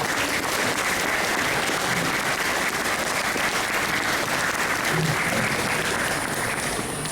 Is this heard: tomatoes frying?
no